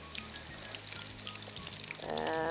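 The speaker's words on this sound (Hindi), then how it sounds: "थोड़ा सा मैं इसमें पानी डालूँ।" Water pours steadily into a hot pan of frying masala for chicken do pyaza, the sizzle swelling into a louder hiss and bubbling toward the end.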